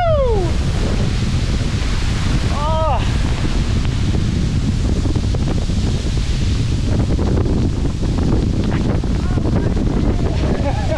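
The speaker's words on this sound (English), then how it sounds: "It's so windy here." Strong wind buffets the microphone at a waterfall lookout in Lamington National Park, a loud steady roar that runs the whole time, with surf-like rushing and brief voices heard under it.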